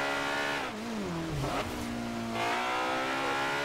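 A Honda S2000 in the racing game Forza Horizon 2 revs hard, its engine pitch dipping and then climbing again in a loud, continuous whine with no voices.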